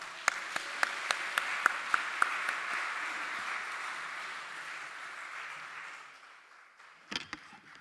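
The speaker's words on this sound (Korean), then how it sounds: "크게 박수하며 환영하겠습니다" An audience at a Baptist pastors' couples conference applauds to welcome a pastor to the stage: dense, steady clapping punctuated by a few sharp individual claps early on, which thins and fades out near the end.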